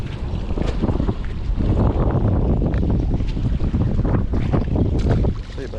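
Strong wind buffets a fishing boat out on the water, a loud, continuous roar of gusts and microphone rumble filling the whole stretch with no talk.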